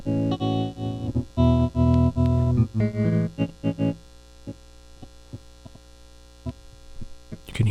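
A Chase Bliss Audio effects pedal set to an abrasive random pattern chops a sustained tone into harsh, stuttering fragments that start loud and dense, then break into sparse, irregular bursts.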